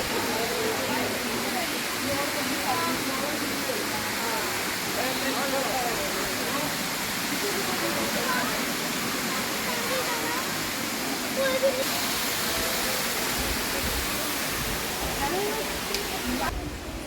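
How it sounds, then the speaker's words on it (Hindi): A small waterfall at Rock Garden, Chandigarh, gives a continuous, full rushing roar of falling water, steady and fairly loud throughout, with faint voices of visitors mixed into the wash. "एक और छोटे से रास्ते से वाटरफॉल हो रहा है।"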